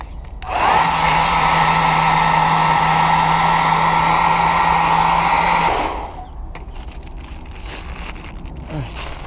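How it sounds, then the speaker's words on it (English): Hair dryer blowing on the engine parts of a Mk4 Golf GTI 1.8T during an oil cooler replacement, a loud steady whirring roar with a low hum that runs for about five seconds and then cuts off, leaving faint shop clatter. "Hair dryer time."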